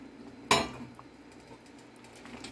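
Potatoes, saba bananas and chickpeas dropped into a cooking pot, heard as one sharp clank of metal near the start followed by quiet kitchen background and faint small knocks.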